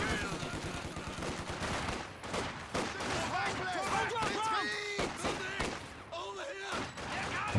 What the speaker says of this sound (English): And that is the MG42 covering the center.